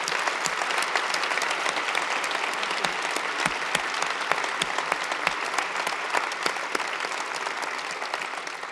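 An audience at a CEO talk gives a sustained round of applause, many hands clapping in a dense, even patter that carries on throughout and eases slightly at the end.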